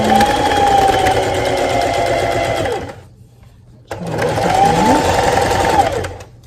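A sewing machine runs a half-inch seam on slippery satin pillowcase fabric, whirring steadily for about three seconds, pausing briefly, then starting up again for another sustained run, close and fairly loud.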